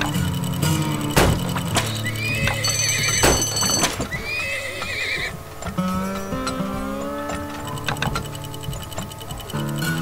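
Horses neigh and trot in the oil-drilling game Turmoil, several whinnies over clip-clopping hooves and other farm-animal calls, fairly loud and continuous throughout.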